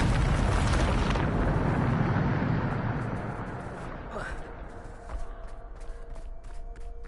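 Bombarda spell blast in Hogwarts Legacy: a loud, rumbling explosion that fades slowly over several seconds, followed by softer debris and crackling.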